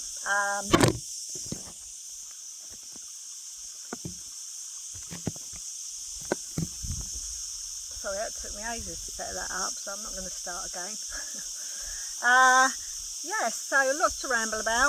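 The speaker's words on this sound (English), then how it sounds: "if you hear lots of noise in the background, it's the cicadas, which are so noisy at this time of year." Cicadas buzz in a constant high shrill drone through the whole stretch, steady in the background, while someone talks in the foreground.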